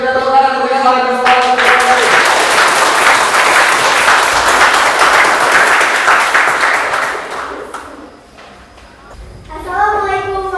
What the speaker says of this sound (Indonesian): Yuk kita tepuk tangan untuk yang paling besar.